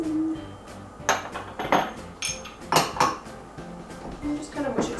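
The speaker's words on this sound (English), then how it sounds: "And just kind of mush it together." A utensil scrapes and clinks against a bowl while butter, brown sugar and cinnamon are mushed together, giving irregular clattering bursts with soft pauses between strokes.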